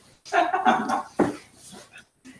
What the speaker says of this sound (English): Does that dog have any voice? Oh, he does.